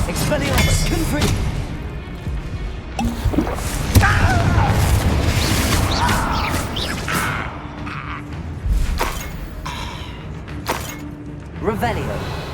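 Confringo blasting spell explosions in Hogwarts Legacy, with booming thumps and crackling bursts landing several times amid game combat, mixed under a voice shouting spell names.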